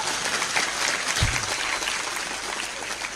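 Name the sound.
audience applause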